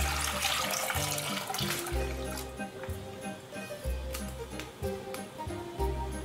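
Water runs steadily from a tap, splashing and filling a pot, with rhythmic music playing underneath.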